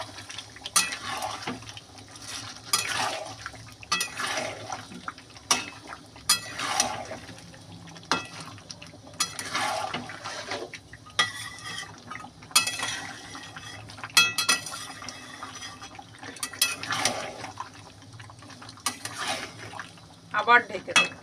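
Marinated duck meat being stirred in a cooking pot, with repeated scraping and clinking of a utensil against the pot and watery sloshing in irregular strokes, heard close alongside a person speaking.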